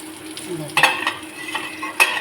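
Food fries in a pan until reddish-brown, a soft sizzle under a few clinks and scrapes from stirring, close and fairly quiet, with no voices.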